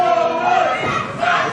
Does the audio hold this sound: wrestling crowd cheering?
yes